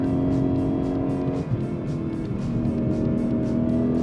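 A Lexus IS 500 F Sport Performance V8 pulls hard in second gear with a steady, droning engine note that dips briefly at a shift before building again, heard close and continuous with no voices.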